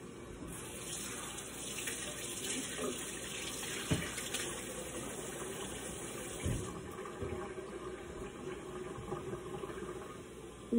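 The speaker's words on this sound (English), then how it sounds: "Wash your hands, okay?" Tap water runs steadily into a sink as hands are washed during home baking, a continuous close rushing hiss with a few light knocks, and no talk over it.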